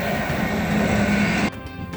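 A freight train passes close by in a Swiss mountain valley, giving a loud, steady rolling rumble with a squealing tone before the noise drops off suddenly.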